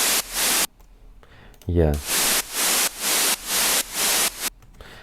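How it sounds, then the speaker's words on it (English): A synthesizer noise oscillator on a default preset plays loud, broadband white noise in a rhythmic series of repeated bursts separated by short gaps, with a brief spoken word partway through. "let's make a default preset because it has a noise oscillator."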